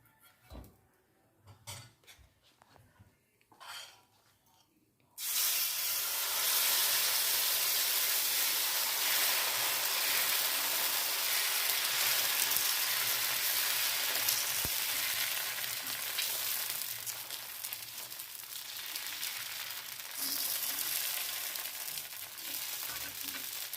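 Carrot masala dosa frying in ghee on a hot griddle, a loud steady sizzle that bursts in suddenly after a few soft clatters and then holds strong, hissing throughout.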